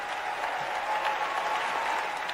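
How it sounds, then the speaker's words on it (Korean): A crowd at the inauguration speech of Los Angeles's first female mayor rises in a standing ovation, with dense, steady clapping that stays loud and close throughout. "이때 이제 사람들이 막 일어나서 그 기립박수를 쳤는데"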